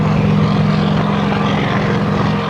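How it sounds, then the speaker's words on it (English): A Sikorsky UH-34 helicopter flies at an airshow, a loud, close, continuous throbbing rotor and engine roar with a steady low beat. "That is excellent helicopter flying."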